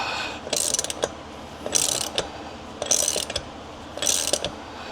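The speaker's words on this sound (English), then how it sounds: "that bearing is just coming right out" Bearing pressed out of a wheel hub with a puller tool, a series of gritty clicking, ratcheting bursts repeating in four spaced rounds, close and fairly quiet, with no talking.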